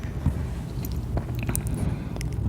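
A pet chews and bites on something close up, with soft crunchy, wet gnawing and scraping sounds repeating unevenly over a low rumble, with no talking.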